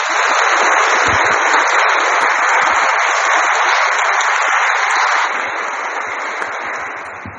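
A church congregation applauds during a blessing ceremony for a new painting of two saints. The clapping is a steady, dense wash that stays loud before easing slightly in the last couple of seconds.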